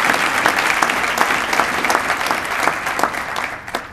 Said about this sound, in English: Let's give all of our finalists a big round of applause